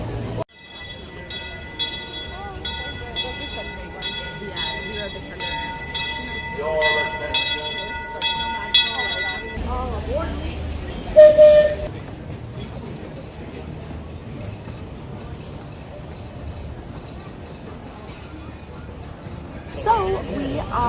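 The Disneyland Railroad train rolls into the station with a ringing bell and a steady whistle-like horn tone, a rumbling heavy rail clatter continuing under crowd murmur and voices.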